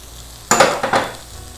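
Onions sautéed with green chilies and turmeric powder being stirred in a pan: a short burst of sizzling and scraping, two quick stir strokes close up, over quiet room background.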